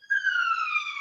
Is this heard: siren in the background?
yes